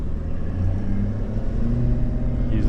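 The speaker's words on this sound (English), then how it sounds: "using the truck now" A truck driving in a church parking lot during a winter snow-plowing and salting job, heard from inside as a steady, loud low engine rumble that holds constant throughout with slight rises in pitch.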